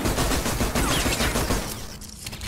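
Rapid bursts of gunshots from the shooter game Adaca, dense and continuous at first, then thinning out and fading toward the end.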